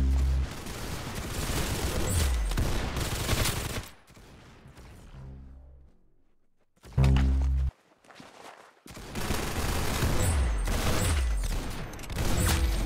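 Dense rapid gunfire from the first-person shooter game Arsenal, loud bursts of automatic fire and shots filling the first four seconds, a brief pause with a single heavy blast, then sustained fusillade resuming to the end.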